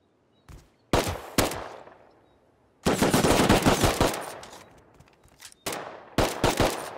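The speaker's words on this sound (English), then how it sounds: "Wait, why am I being shot at?" Bursts of automatic gunfire during a Rust raid in a video game, with several loud rapid volleys separated by brief pauses and decaying echoes, no talking.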